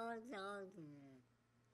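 A cat in a TikTok advert gives a single drawn-out meow that rises and then slides down, quiet and alone.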